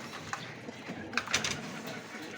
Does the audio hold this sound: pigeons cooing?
yes